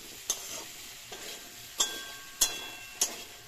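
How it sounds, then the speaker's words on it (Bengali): A spoon stirring vegetable curry in a cooking pot, five or so separate light scraping taps spaced about half a second apart over a soft frying sizzle. "তাই আমি একটু এই তরকারিটা একটু নেড়ে চেড়ে দিচ্ছি।"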